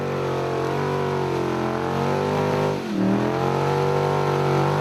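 A rally vehicle in the Toyota Dealer 400 off-road race revs hard while pushing through a mudhole, its loud, steady engine drone briefly dipping and straining before surging back up.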